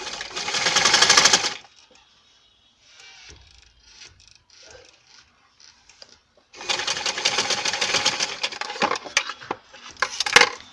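A sewing machine stitching bias tape onto the armhole of a top runs in two loud bursts of fast rattling stitches, with quiet fabric handling and small clicks in the pause between them.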